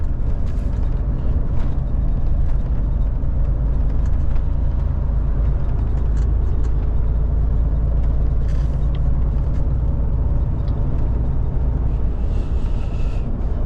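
Steady, heavy roar of road traffic with engines rumbling continuously, as if many cars and trucks are passing close by.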